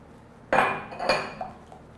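A spatula works eggs into cassava and coconut cake batter by hand, knocking against the bowl with two sharp clinks followed by a few lighter taps close by.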